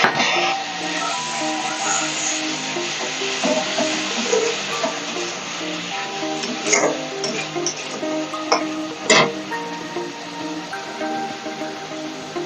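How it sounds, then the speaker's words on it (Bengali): Fish curry broth boils in a pan, giving a continuous loud bubbling with irregular pops and clicks throughout, no talk. "দেখুন আমার ঝোলটা টকবক করে ফুটছে"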